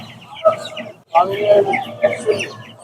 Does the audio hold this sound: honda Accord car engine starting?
no